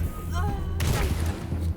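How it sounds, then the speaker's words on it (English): Gunfire from the Wasteland 3 video game: a burst of sharp, loud shots breaks out partway through, over a steady low hum and faint game tones. "Oh, we missed the second shot."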